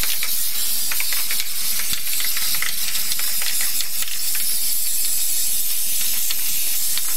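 Aerosol can of clear coat spray paint hissing in a long, loud, continuous burst with small sputters, close by and alone.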